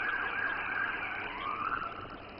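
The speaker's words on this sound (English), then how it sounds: "As you can hear by the sirens, Officer Michael Wyatt has now arrived on th" A wailing police siren rising and falling steadily, sounding somewhat distant, with no talking.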